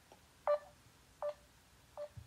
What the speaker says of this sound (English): It's still ringing, like as if we're trying to phone you